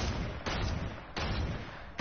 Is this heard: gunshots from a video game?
yes